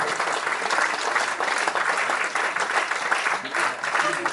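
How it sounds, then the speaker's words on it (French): A school orchestra's young instrumentalists receive sustained applause from an audience at the orchestra's launch, continuous hand clapping that stays even and fairly loud throughout. "je crois qu'on peut encore applaudir ces instrumentistes en herbe"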